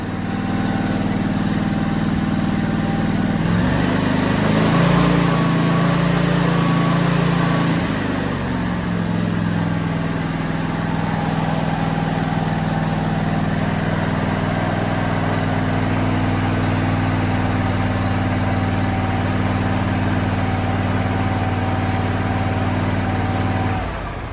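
Lawn tractor engine idling steadily after a choke repair, a low, even rumbling drone running close and unbroken, with a brief rise in revs near the start before settling back to a smooth idle.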